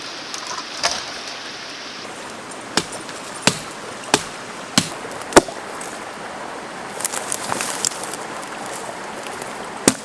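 Smaller pieces of wood are chopped at a wilderness camp, giving about eight sharp, evenly spaced strikes, close and distinct, over a constant hiss like rain.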